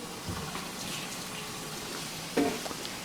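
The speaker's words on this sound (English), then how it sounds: "There's the cabbage boiling." A pot of cabbage bubbling and hissing steadily at a low level, with a constant watery simmer and a brief louder gurgle near the end, no one speaking.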